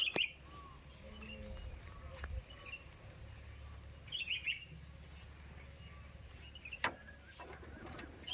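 Birds at a grain-strewn bird-feeding platform give a scattering of faint, short chirps and tweets against a quiet outdoor background, a few calls spread across the eight seconds.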